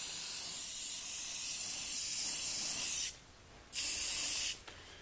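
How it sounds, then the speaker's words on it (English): Aerosol spray applied during a Pro-lite running board installation on an Arctic Cat Proclimb snowmobile: a long, close hiss lasting about three seconds, a short pause, then a second, briefer burst. "And now we're just going to take this and spray this really."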